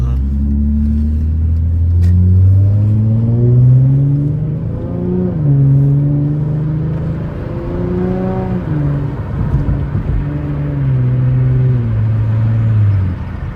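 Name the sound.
2016 Hyundai Genesis Coupe 3.8 driving on highway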